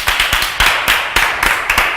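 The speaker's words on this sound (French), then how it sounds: "est-ce que les filles peuvent t'applaudir?" Women in a French TV studio audience clap in short rhythmic bursts, fairly close and lively, with no talking over the sharp repeated hand claps.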